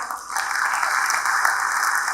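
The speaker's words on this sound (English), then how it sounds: "So I think he needs a great round of applause" An audience at a university event in Dubai breaks into sustained applause, a dense, even wash of many hands clapping throughout, with no voices over it.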